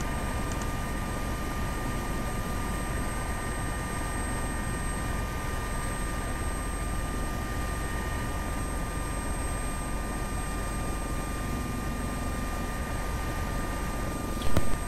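An AS365 helicopter in the Prepar3D v4 flight simulator, a steady loud cockpit roar of turbine and rotor with a constant high whine, unchanging throughout and heard alone.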